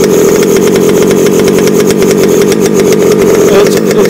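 Gas engine of a Losi MTXL RC truck with an OBR G340 motor running nearby, a loud, rapid buzzing putter with small rises in pitch, holding steady throughout.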